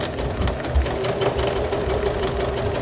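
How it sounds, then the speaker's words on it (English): A sewing machine stitches steadily along a seam edge, a continuous close mechanical whir with rapid needle pulses throughout. "I'm going to stitch as close as I can to the edge of this seam here."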